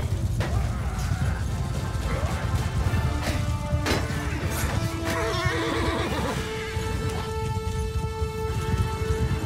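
Horses neigh and whinny several times during a large battle in Mount & Blade 2 Bannerlord, over a dense, loud background of combat clatter and hooves.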